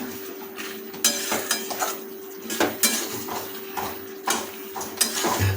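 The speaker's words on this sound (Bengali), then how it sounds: "যেহেতু মাংসের উপর আমরা লবণ যোগ করছি তাই এটাকে খুঁজিতে ভালো করে কিছুক্ষণ কষিয়ে নেব" Salted chicken sautéing in a metal kadai as a utensil stirs it, with repeated close clanks and scrapes against the pan over a soft sizzling hiss and no talking.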